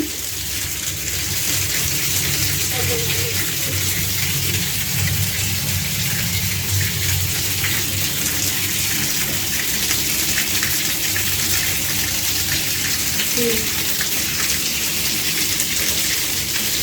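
Muddy water gushing continuously from radiator panels as they are flushed out, a steady loud splashing rush that holds unchanged throughout.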